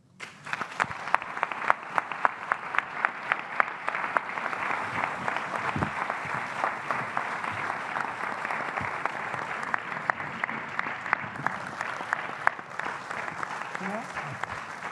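A large audience at a political gathering claps in sustained, dense applause that holds steady for about fifteen seconds, with faint voices now and then.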